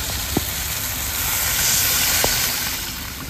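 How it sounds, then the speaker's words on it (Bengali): Water poured onto fried spice masala in a hot pan for a rohu fish curry with black cumin sets off a loud, steady sizzling hiss. The sizzle swells briefly and is heard up close with no talking. "জল দিয়ে দেবো।"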